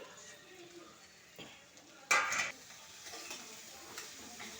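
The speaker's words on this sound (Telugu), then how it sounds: "క్యాప్సికమ్ ముక్కలు కూడా వేసేసి అన్నీ కలిపేసి వేయించేసుకోవాలి" Carrot and capsicum pieces stir-fry in a pan with a faint sizzle under scattered utensil clinks, then one loud scrape and clatter of a spoon against the pan midway, close and alone.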